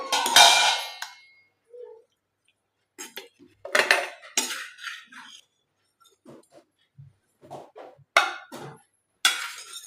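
Cooked eggplants are moved onto a plate with loud metal clanks and scrapes of utensils against cookware, coming in separate close bursts with quiet gaps between them.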